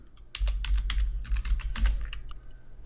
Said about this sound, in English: So I'm going to type here